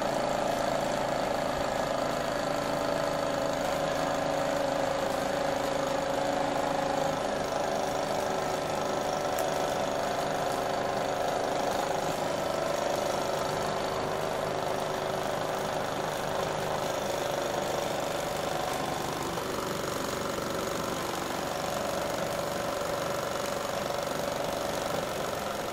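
An old KMV engine at a steam and vintage machinery rally runs continuously with a steady knocking, mechanical churn, loud and close, with a constant drone throughout.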